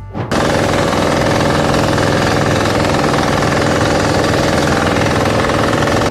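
A diesel cultivator (FTL900HD) tilling soil while pressed down: a loud, continuous engine roar with rapid pounding chatter, close and unbroken after a brief start.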